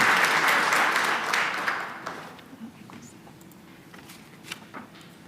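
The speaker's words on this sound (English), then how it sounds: "Let's give Isabel another round of applause." Audience applause at an academic honors conference, loud at first and then tapering off into scattered claps over about five seconds.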